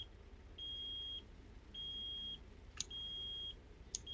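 A parked truck's warning chime, with the check engine light on and the parking brake set, sounds three steady high beeps of about half a second each at an even interval, with two sharp clicks between them.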